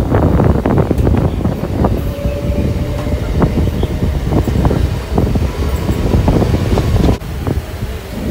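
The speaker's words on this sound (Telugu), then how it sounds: "ఇక్కడ మన ట్రైన్ అయితే ట్రాక్ చేంజ్ అవుతుంది" A crowded MEMU passenger train running between Rajahmundry and Bhimavaram as it changes track, with loud continuous rumble and rapid irregular clacks and thumps of wheels over points and rail joints, heard from inside the coach.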